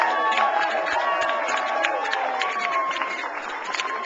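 Crowd applause at a Virginia Democratic gubernatorial candidates' political event: sustained clapping and cheering from a large room, steady and fairly loud throughout, with a voice and tones running over it.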